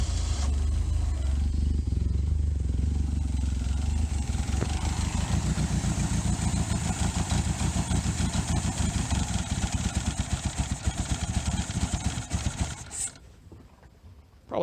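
A 1982 Plymouth Reliant engine, dormant for 29 years, cranks over with a rapid, rhythmic churning for about eight seconds without catching. The sound is loud and close, and it ends abruptly.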